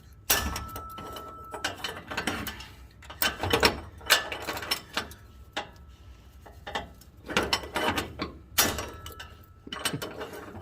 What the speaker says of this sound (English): Ratchet is not enjoying that at all